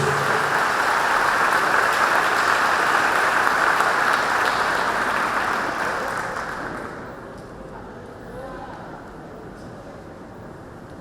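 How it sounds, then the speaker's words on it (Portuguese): A church congregation at a national convention breaks into loud, sustained applause that fills the hall, then fades to a quieter murmur near the end. "uma salva de palmas para Jesus"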